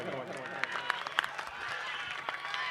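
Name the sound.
crowd applauding at a wrestling match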